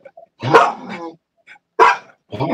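Dog barking on a fishing pier, two loud, close barks about a second apart with a short yip between them, followed by the start of a third bark.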